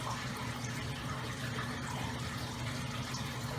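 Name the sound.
water added with a turkey baster to a test tube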